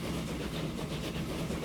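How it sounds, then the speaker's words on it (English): A Mogul steam train pulls out in the Transport Fever game, giving a short, steady rumble of rolling rail noise with faint rhythmic clatter. "Here goes our first train here."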